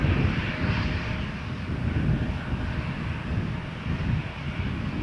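An airliner at Toronto Pearson Airport produces a steady, distant rumbling roar of jet engines mixed with wind buffeting on the microphone, sustained throughout without speech.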